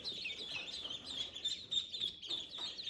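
Day-old Cayuga and Magpie ducklings peep in rapid, high, overlapping chirps, close and fairly faint, continuing without a break and with no talk.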